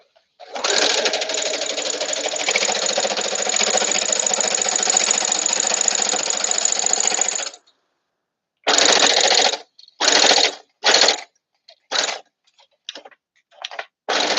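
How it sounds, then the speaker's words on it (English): A sewing machine stitches a bodysuit in one long loud continuous run of about seven seconds. A pause follows, then a string of short, sharp bursts that get briefer toward the end, all close and with no voices. "So now I'm gonna sew this thing."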